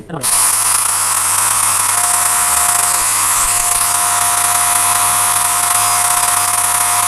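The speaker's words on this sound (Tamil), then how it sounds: "இந்த வேக்கம் கிளீனரை நான் ஹேண்ட் ஹெல்டாகவும் யூஸ் பண்ணி பார்த்தேன்" A small handheld vacuum cleaner motor whirs loudly and steadily, a high-pitched whine holding for several seconds after a brief spin-up.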